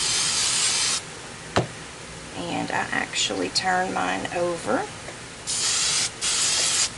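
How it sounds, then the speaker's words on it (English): An aerosol spray can hisses onto crayon hair-bow parts laid on an old towel: one steady burst, then a person talks, then two more close bursts separated by a short pause. "spray my parts."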